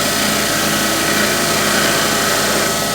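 A wood lathe spins a red gum and resin box blank while a spindle gouge cuts it, making a loud, continuous whirring and scraping drone that stays steady throughout.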